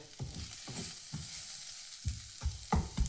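Small-chopped green chillies sizzle in a hot pan with a steady, quiet fry, broken by a few soft stirring knocks and scrapes.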